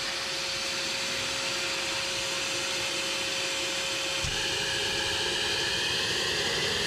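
A homemade gas turbine jet engine runs steadily at idle with a loud, continuous broadband roar and a sustained high whine, a slight shift in tone partway through, and no talking.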